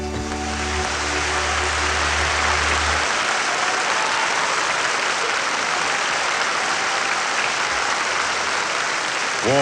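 An audience at the 1972 Eurovision Song Contest applauds after Italy's song. The clapping is dense, sustained and fairly loud, fills the space like rushing noise, and rises as the last sung notes fade at the start.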